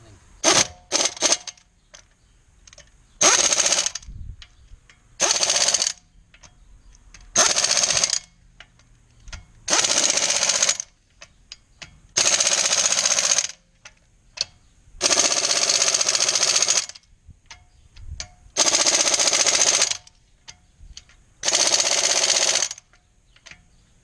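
An impact wrench fitted with a torque stick tightens wheel lug bolts on a 2000 Audi A4 Quattro 3.0. It fires in about eight loud, rattling bursts of one to two seconds each, separated by short quiet gaps.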